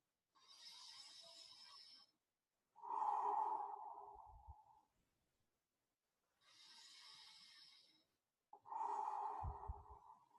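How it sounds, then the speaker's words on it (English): Two slow, deep calming breaths are taken close up, each a drawn-in inhale followed by a longer, softer exhale, with quiet pauses between and no talking. "So I'm going to do 2 nice breaths."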